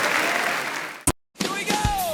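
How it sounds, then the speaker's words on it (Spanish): Church congregation clapping in praise, a dense round of applause that cuts off abruptly midway, followed by a brief silence and then a voice talking over music. "Dale un aplauso al Señor, dale la gloria al que vive."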